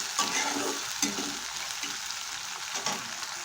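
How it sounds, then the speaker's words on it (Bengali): Onions fry in hot oil with whole garam masala, giving a steady close sizzle broken by several soft scraping stirs of a spoon in the pan. "এবার এর মধ্যে দিয়ে দিচ্ছি গোটা গরম মশলা পেঁয়াজটাকে একটু লাল করে ভেজে নেবো এবার"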